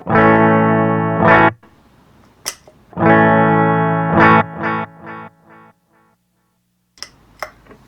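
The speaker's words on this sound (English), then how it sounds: "Okay, now I'm going to throw the DD3 on." A Boss DD-3 digital delay pedal on electric guitar gives two loud strummed phrases, each trailing into a series of quieter echo repeats that fade to near silence before a couple of brief plucks.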